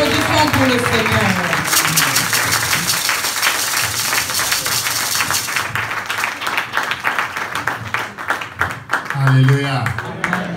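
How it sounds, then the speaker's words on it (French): Clapping from a church congregation praising the Lord, a dense sustained wash of many hands over music and voices, with a speaker's voice returning toward the end. "Alors applaudissons pour le Seigneur."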